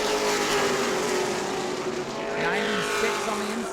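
Pro late model race cars roar around New Smyrna Speedway in a close pack, engines droning loudly and continuously as they pass, with a commentator talking over the racing.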